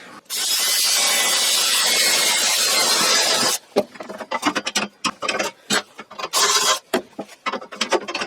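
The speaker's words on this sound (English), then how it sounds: "I'm going to drill a hole right here." A power drill grinds steadily through metal for about three seconds, then stops and restarts in a series of short, uneven bursts, loud and close.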